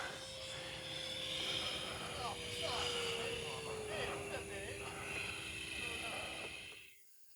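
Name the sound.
Hobby King F-35 RC jet electric ducted fan engine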